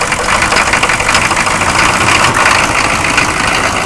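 A vehicle engine running loud and close, a steady rough rumble like a settled idle with no clear cranking at the start, and no voices over it.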